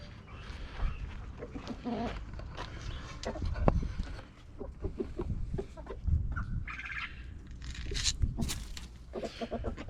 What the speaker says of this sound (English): I'm gonna go ahead and give these chickens their lamb pellets.